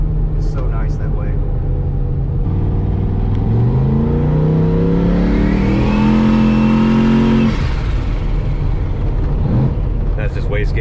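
A turbocharged LS-swapped OBS Chevy 4x4 truck accelerates hard from inside the cab, engine note rising steadily with a building turbo whine and a wastegate hiss before easing off, loud and close with people talking.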